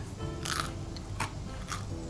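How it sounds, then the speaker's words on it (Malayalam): Crunchy, crispy butter murukku bitten close to the mic: three distinct sharp crunches spaced about half a second apart, with faint chewing between them and no voices. "ഞാനത് കഴിച്ച് കാണിച്ചതാണ്. നല്ല ക്രിസ്പിയാണ്."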